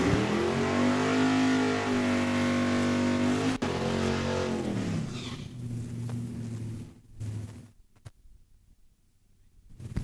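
Drag race cars at Saskatchewan International Raceway roar loudly with a rising, high-revving engine note that falls away over about six seconds, followed by fainter engine noise and gaps of near quiet.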